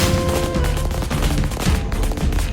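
Firecrackers burst in a rapid, dense string of sharp cracks and pops, loud and continuous with no clear gaps, in a Malayalam television serial scene.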